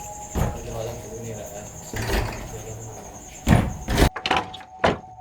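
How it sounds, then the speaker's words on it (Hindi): Jammed door being forced open in a room during an overnight stay, with a few heavy scraping, rattling pushes and thumps ending in sharp knocks, while people talk and crickets chirp steadily in the background. "दरवाजे काफ़ी जाम हो गए हैं यहाँ के। इसको खोल दो"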